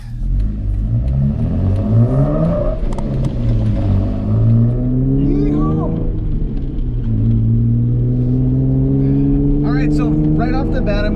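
Jeep Wrangler JKU fitted with upgraded big brakes, driving with a steady engine drone that rises and falls as it accelerates and shifts, loud and continuous with a voice speaking over it.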